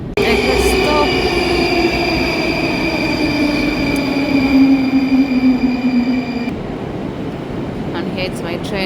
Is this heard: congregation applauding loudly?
no